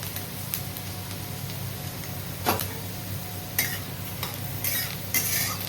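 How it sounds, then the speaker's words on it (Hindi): Urad dal with asafoetida being stirred in a pan on a cast iron tawa: a soft continuous sizzle with a few sharp scrapes and clinks of the spoon against the metal. "अब हम लोग इसको थोड़ा ऐसे चलाएंगे, स्टर करेंगे।"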